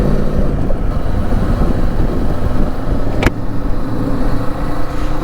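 A 2024 Kawasaki Eliminator 450 motorcycle rolls along slowly in third gear, its engine a steady, loud, low drone with wind rumble and one brief sharp click partway through.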